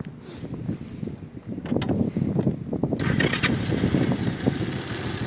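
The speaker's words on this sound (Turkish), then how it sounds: "bir de arkadaşlar isterseniz e, motorun bir sesini dinleyelim" A Mondial SFC motorcycle engine runs unevenly amid gusty wind and rustling, with a few sharp clicks and a rising hum partway through.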